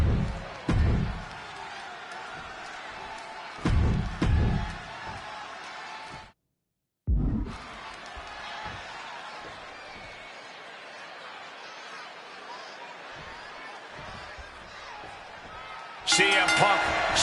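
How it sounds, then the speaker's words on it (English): A virtual arena crowd in Chicago during a WWE 2K26 wrestling match makes a sustained roar, with a few louder thumping bursts and a brief dropout in the middle. A swell of noise comes near the end. "And just listen to this crowd here in Chicago. They are feeling the heat indeed."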